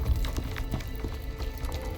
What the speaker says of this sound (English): It's his footsteps, but they're delayed.